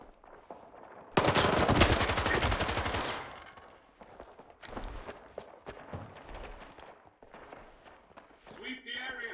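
A loud, close burst of rapid machine-gun fire rings out in the video game STALKER 2. It is followed by scattered single shots, footsteps and in-game voices.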